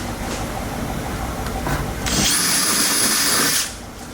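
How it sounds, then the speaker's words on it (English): A power drill bores a 1/4 inch hole while fitting an HDPE rear diffuser to a 2018-2024 Toyota Camry SE/XSE, a close, loud whine rising for about a second and a half before stopping, with no talk. "you've got those 2 holes drilled with a 1/4 inch drill"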